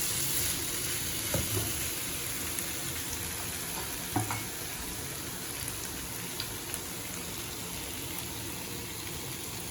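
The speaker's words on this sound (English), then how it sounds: "Now we'll just stir it." Pork vindaloo sizzles steadily in a frying pan with faint, occasional scrapes of stirring, a continuous soft hiss and no voices.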